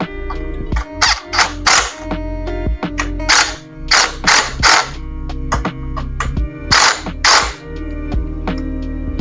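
An impact wrench working on a Yamaha R7 motorcycle gives loud, close bursts of mechanical rattling and hammering in short groups, separated by brief pauses. No one speaks.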